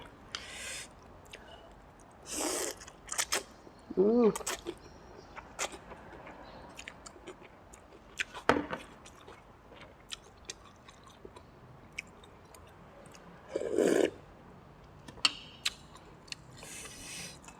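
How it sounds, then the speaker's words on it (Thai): Someone eating pork noodle soup with meatballs, slurping and chewing in scattered bursts, with a few clicks of a utensil against the bowl and quiet gaps between mouthfuls, close up and with no talking. "กินก๋วยเตี๋ยวน้ำกำลูกชิ้นเยอะๆเลยค่ะ"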